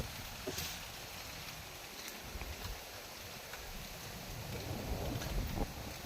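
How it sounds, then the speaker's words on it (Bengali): Strong wind buffets and rumbles across the microphone in a continuous low roar, with faint rustling in the background. "প্রচুর বাতাস দিচ্ছে"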